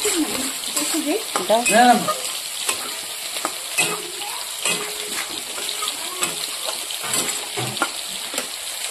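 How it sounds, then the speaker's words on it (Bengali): Potato pieces sizzle in hot oil while a spatula scrapes and turns them in a pan, close and steady, with a brief voice near the start. "আমি আলুটাকে ভেজে কষিয়ে নিচ্ছি"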